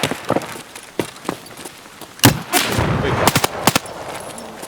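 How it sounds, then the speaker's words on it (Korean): Bursts of video game gunfire in Escape From Tarkov, single shots and rapid volleys, crack out irregularly, with a loud cluster in the middle and sharp repeated shots after. "총소리 나네"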